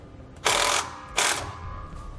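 A ratchet tool tightens hose clamps during an Air Lift LoadLifter 7500 XL air helper spring install on a Ford, giving two loud bursts of rapid, buzzing clicks close by, each lasting under half a second.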